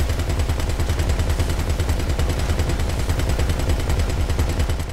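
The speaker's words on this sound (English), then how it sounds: "Bro, you were shooting at me." Rapid automatic gunfire in Grand Theft Auto V near Alamo Sea, a continuous loud stream of closely spaced shots with no pauses.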